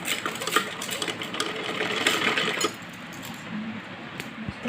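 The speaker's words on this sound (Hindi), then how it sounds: "सिलाई करेंगे हम इस पर।" Sewing machine stitching a sleeve of a kachli blouse, a steady close whirring run for under three seconds, then stopping and leaving quieter room sound with a few small clicks.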